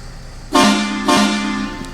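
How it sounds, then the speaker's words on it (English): Two loud, blaring train-style horn blasts from a truck in the video game American Truck Simulator, in quick succession, the second held longer. "Maybe we can test our train horns."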